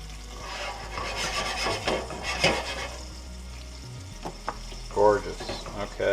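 Fish fillets sizzle and fry in a pan, a steady crackling hiss with scraping and soft clatter as they are flipped over, a few knocks near the end.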